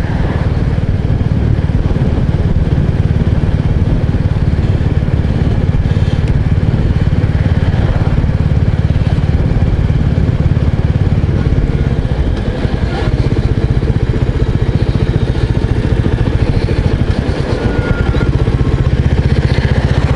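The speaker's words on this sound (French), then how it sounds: "Ah, le moteur est sympa, il est velouté comme ça." A Royal Enfield 350 Bullet 2024 single-cylinder motorcycle engine runs steadily throughout, a continuous close low thumping drone with slight clatter.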